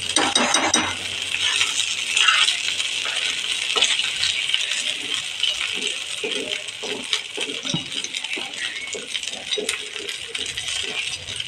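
Rice-flour ukad (varai flour dough) being stirred in a pan on the stove, a steady clattering scrape of spoon against metal running throughout with faint sizzling underneath, no talking.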